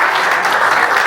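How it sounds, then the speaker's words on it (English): Audience applause at an event honoring someone, a dense steady clapping that fills the short moment, loud and close, with no voices over it. "Let's give another big round of applause."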